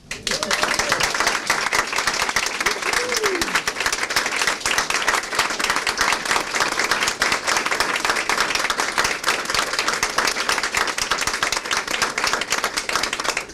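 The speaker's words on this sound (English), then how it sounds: "It is something to clap for sure." An audience applauds at a press conference on ACT score results, with loud, dense clapping that holds steady throughout and a few faint voices mixed in.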